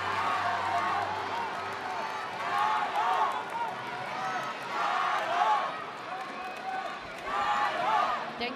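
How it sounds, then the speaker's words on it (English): Arena crowd at a men's gymnastics world championships cheering on Chinese gymnasts, a broad roar that swells in repeated waves under steady commentator speech. "you can hear the crowd warming up in support of the Chinese gymnasts"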